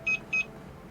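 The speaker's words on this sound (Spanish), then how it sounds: "Ahora te voy a mostrar cómo suenan los tokens de C4." CAM4 level 2 token tip notification, two short bright electronic beeps in quick succession, clear over a faint background hiss.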